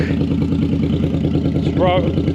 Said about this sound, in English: the bike is now idling beautifully